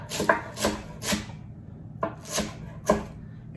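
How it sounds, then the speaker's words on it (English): A knife rough-chops vegetables on a board for red beans, with about five sharp, irregularly spaced strokes heard up close. "once again, that's just a rough chop"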